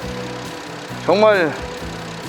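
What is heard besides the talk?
Hyundai Grandeur TG LPI car engine idling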